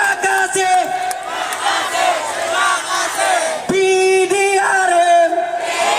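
A large crowd roars and chants in unison, cheering loudly for Malaysian police officers (PDRM) at a public gathering, with a sustained wall of voices that swells again partway through.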